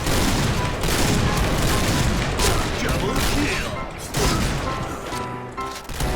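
Rapid gunfire in a shooting video game, dense, loud bursts of automatic shots rattling almost continuously with a brief dip near the end.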